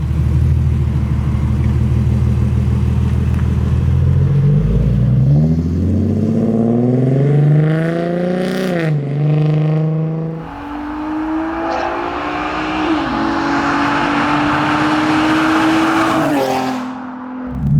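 A 380bhp Nissan 370Z drives and revs, its engine rumbling low, then climbing through rising gear pulls with sharp shifts between them before settling into a sustained higher drone, loud and close.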